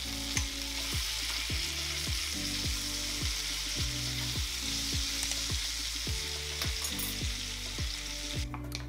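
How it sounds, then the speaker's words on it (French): Pieces of wild duck fry gently on very low heat in a pan, a steady close sizzle running the whole time without pause, with a regular low rhythmic tapping beneath it. "Vous pouvez les retourner une dernière fois, toujours à feu très doux pour pouvoir bien les cuire en profondeur."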